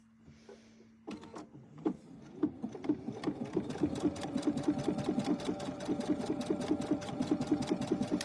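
A sewing machine runs steadily, stitching along the edge of an egg-shaped piece with a fast, even mechanical rhythm that continues for several seconds after a brief quiet start.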